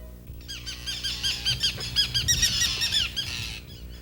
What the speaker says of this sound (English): The seagulls have their nests in the eelgrass and raise a fuss to protect their young from predators.